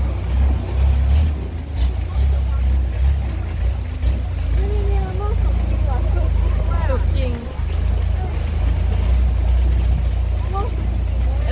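A boat motors along a canal at the Khlong Lat Mayom floating market in Bangkok, its engine a loud, steady low rumble, with faint voices and chirpy sounds scattered over it.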